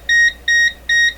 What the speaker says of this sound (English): Hey, it's another beeping meter here.